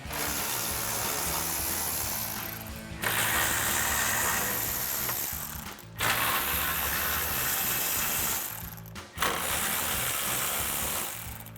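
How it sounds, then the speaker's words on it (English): Ratcheting socket wrench backing out grille bolts on a 2019-2021 Chevrolet Silverado 1500, in three long bursts of steady, close mechanical clatter broken by brief pauses, with no talking. "Grab a 10mm socket and pull these out."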